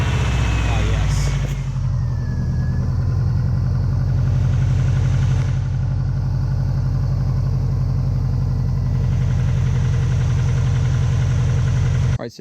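A Subaru STI blobeye's engine idles steadily and loudly after an oil change in a driveway, a continuous low rumble filling the whole stretch after a brief start, with speech heard over it.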